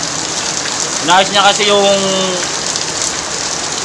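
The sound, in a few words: heavy rain falling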